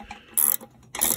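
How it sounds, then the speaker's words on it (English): A ratchet clicks in short bursts while torquing down a part during injector and bracket installation on a Case 188D tractor; two quick, close, crisp ratcheting runs separated by a brief pause. "just get this torqued down to make sure"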